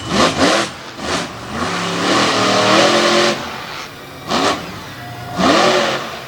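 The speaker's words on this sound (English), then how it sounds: "so that will wrap up Monster Truck Time Trial Racing. Brandon Budd will be the champion." A monster truck races a time-trial run at an outdoor event, its engine roaring and revving in repeated loud bursts that surge and fall as the throttle opens and closes, with crowd-level background noise.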